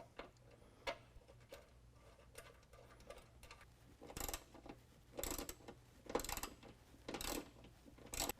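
A 13 mm wrench tightens a nutsert holding a plate while an AMP Research Power Step is fitted to a 2020 Ram 2500. It gives faint mechanical clicks at first, then several louder bursts of ratcheting and metal scraping, with no talk.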